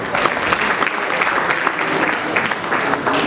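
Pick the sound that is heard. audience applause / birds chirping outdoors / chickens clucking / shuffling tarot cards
audience applause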